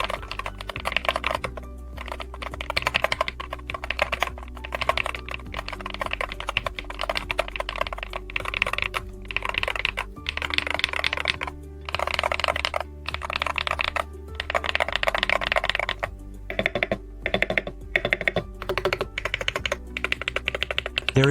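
Typing on a Tsu Pro Tsu gaming keyboard, a slightly muffled, firm mechanical board: a steady stream of close, rapid keystroke clacks running throughout, with a low hum underneath.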